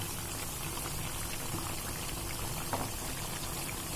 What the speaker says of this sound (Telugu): అల్లం వెల్లుల్లి పేస్ట్ వేగిందండి ఇప్పుడు ఈ కారం కూడా వేసుకుందాం